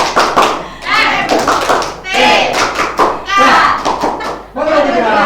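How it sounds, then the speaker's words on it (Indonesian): A classroom of children performs a rhythmic clap chant, bursts of hand claps and thumps alternating with shouted chanting voices, loud and close. "Oke, sebelum semangat ayo tepuk MTK."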